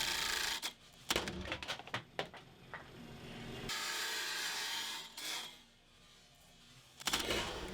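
A cheap plywood segmented bowl on a wood lathe fails as the glue gives way: sharp knocks and rattling bursts, a sustained grinding spin, then a clattering impact at the end.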